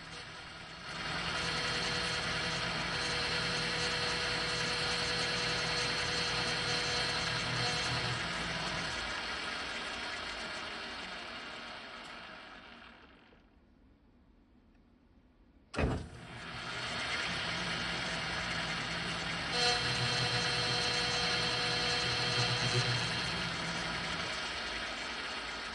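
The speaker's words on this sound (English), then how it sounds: "So I'll swap out this tool for a chamfering tool and put a little chamfer on those gear teeth." A machine tool running a chamfering cutter across the teeth of a steel drive gear spacer, a steady loud whine and hiss that spins down to near silence, then a sharp knock as it starts up again at full speed.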